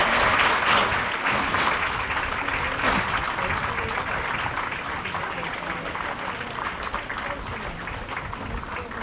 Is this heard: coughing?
no